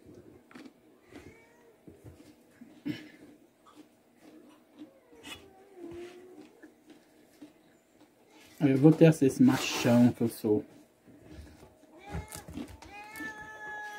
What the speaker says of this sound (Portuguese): esse barulho aí é o gato pequeno que chegou e os grandes não estão aceitando